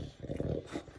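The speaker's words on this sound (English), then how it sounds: "Why are you growling at me" A dog gives a short, low, rough growl in two brief bursts, close and moderately loud, with no speech over it.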